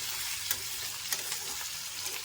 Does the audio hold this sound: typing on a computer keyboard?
no